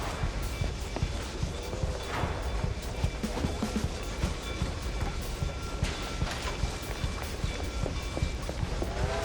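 A train rumbles past in the video game Mouse: P.I. for Hire, a steady dense clatter of wheels and rolling noise filling the scene with rhythmic thumps and no talking.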